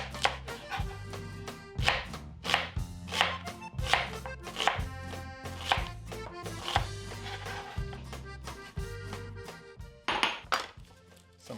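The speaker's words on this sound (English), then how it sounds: "Peel and slice this onion." An onion being peeled and sliced with a knife on a cutting board for chicken paprikash: a steady run of crisp, close chopping thunks with brief pauses between bursts, no voices.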